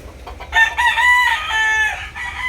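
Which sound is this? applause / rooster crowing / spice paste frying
rooster crowing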